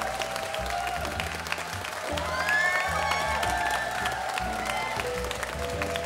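A studio audience at a talk concert applauds and cheers as guests are welcomed onto the stage, with a dense crowd roar and clapping that swell and stay loud throughout, and a few voices rising above it.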